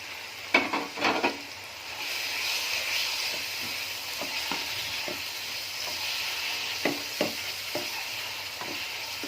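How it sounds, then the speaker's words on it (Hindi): Hand-minced chicken keema fries in a pan with a steady sizzle, interrupted by several scraping stirs and spoon knocks against the pan, no voices. "कीमे को जो है अच्छी तरह से इसको हम चिकन कीमा है इसको भून लूँगा मैं"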